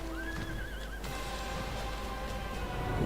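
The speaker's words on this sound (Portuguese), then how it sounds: "Vamos no cavalo do Ifrit novamente." Ifrit's horse mount in Final Fantasy XIV gives a whinnying neigh that wavers up and down near the start, followed by steady game ambience and faint hoof-like movement.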